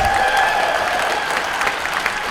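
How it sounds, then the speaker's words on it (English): A fan convention audience gives a big round of applause for a guest, dense continuous clapping filling the room from start to finish. "Let's give her a big round of applause, everybody."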